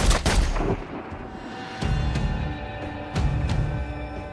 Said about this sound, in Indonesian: John menembaknya hingga tewas